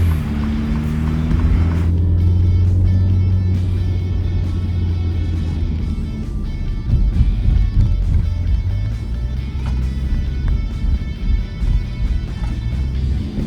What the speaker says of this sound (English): Under acceleration, you can hear that the engine sounds a bit louder when it's in sport mode.